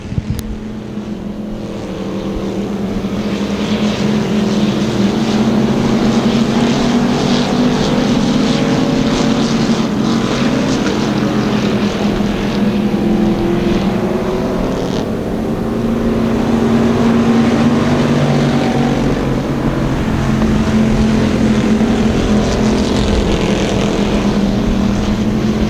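Hobby stock race cars in a heat race at Thunder Hill speedway, a steady loud engine drone rolling on without pause, with wind noise buffeting the microphone and no talk.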